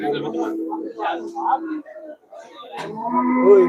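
Cattle at a cattle market in Melapalayam low with deep, drawn-out moos close by, mixed with people talking over them, ending in a long sustained bellow.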